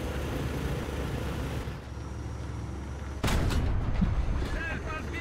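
Tank cannon fire in a tank video game, the Object 435, sounds over a steady engine rumble, with one heavy, booming shot landing partway through and its echo lingering afterward.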